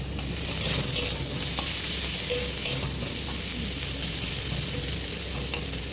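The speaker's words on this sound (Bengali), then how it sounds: "আর পেঁয়াজ ভাজা চলছে এখন" Onions frying in a pan for a home-cooked meal, a steady close sizzle with occasional stirring scrapes and clicks across the whole stretch, no voices.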